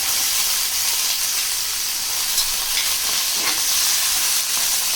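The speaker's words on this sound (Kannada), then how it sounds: "ಈಗ ಈ ತರಕಾರಿಗಳನ್ನ ಫ್ರೈ ಮಾಡ್ಕೊಳ್ಳೋಣ." Ivy gourd and other vegetables fry in a couple of spoons of oil in a pan, giving a steady, close sizzle and crackle with faint stirring scrapes, continuous and without talk.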